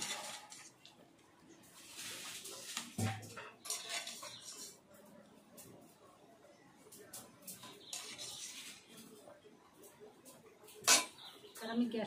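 Half-boiled okra being drained from hot water in a kitchen, with clattering pot and utensil knocks, splashing and shuffling movements at moderate loudness, plus a louder clank near the end.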